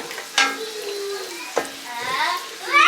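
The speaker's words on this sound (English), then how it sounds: "Oh, the oil splatting everywhere." Onions frying in hot oil in a home kitchen pan, with a steady sizzle and crackle, a few sharp splattering pops, and stirring scrapes throughout.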